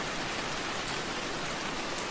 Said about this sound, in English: The rain taps softly against the window.